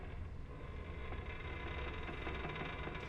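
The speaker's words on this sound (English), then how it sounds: "That's the throttle for the port side engine." A ship's port side engine runs in the video game Grim Fandango Remastered, a steady, fairly faint mechanical drone that stays even across the whole stretch with no talk.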